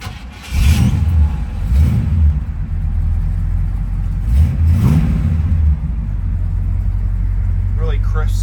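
A 1967 Buick GS400 convertible's 455 V8 starts and idles with a deep, close rumble, rising through two short revs in the first half, while a voice talks over it.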